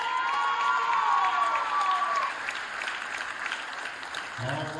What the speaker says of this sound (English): a big round of applause for our middle school cheerleading coaches